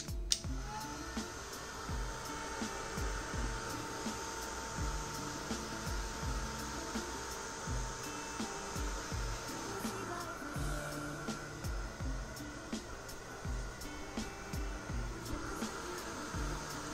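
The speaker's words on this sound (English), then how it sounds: "you cannot use your heat gun on only one area. You need to keep it moving continuously" Heat gun blowing hot air over embossing powder, a faint, continuous whirring hum that holds steady throughout, with no talk.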